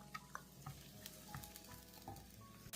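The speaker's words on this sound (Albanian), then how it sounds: "vazhdojmë të fërgojmë qepën një herë për 2-3 minuta derisa të na zbutet pak" Onion frying in oil in a pan over medium heat, a faint, steady sizzle with occasional clicks and spatula scrapes, close and quiet with no voices.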